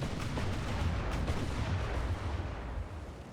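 Naval gunfire in Ultimate Admiral: Dreadnoughts, a dense low rumble of distant cannon booms rolling continuously with no voices over it.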